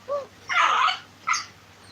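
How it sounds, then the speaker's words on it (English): A dog barks outdoors in the rain, three short barks at moderate distance with the middle one longest, and no talking. "And the other dog that's going off Southie."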